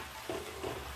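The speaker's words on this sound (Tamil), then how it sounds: "பொரிய விட்டு அந்த எண்ணெய் கொதிக்குது இல்லையா" Rava (semolina) chips fry in boiling oil, giving a soft, steady sizzle with faint bubbling that stays close and quiet throughout.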